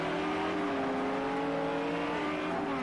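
A Ferrari race car engine in Project CARS 2 at the Nürburgring sprint race, a loud steady high-revving drone held at a constant pitch with a slight waver, continuous throughout.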